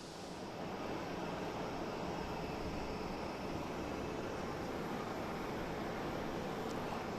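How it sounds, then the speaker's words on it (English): A Turkish Airlines airliner arriving from Istanbul at Boston Logan airport gives a steady, distant broadband jet roar that holds even throughout, with no voices over it. "There we go, Turkish Airlines coming in from Istanbul."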